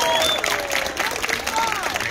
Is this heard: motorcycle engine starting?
no